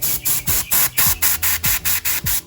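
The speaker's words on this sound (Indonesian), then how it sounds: "Nah sisanya kita semprot." Short rhythmic bursts of compressed air sprayed inside an Asus Vivobook 14 K3400 OLED laptop during cleaning, about ten sharp hissing blasts in quick regular succession, loud and close with no talking.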